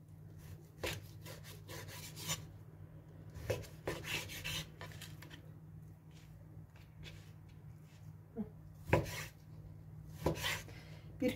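A kilo of raw chicken breast being cut into thick chunks for oven-baked chicken skewers in a home kitchen, heard as a series of soft, irregular knife taps and scrapes on a cutting board at close range, quiet and without speech.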